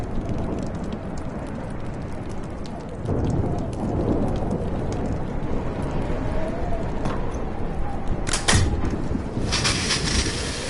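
Heavy rain pours steadily in Life is Strange, with a thunderclap cracking out near the end of the storm's continuous roar; no voices rise above it.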